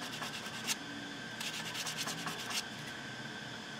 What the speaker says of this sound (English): So I'm going to sand that right there.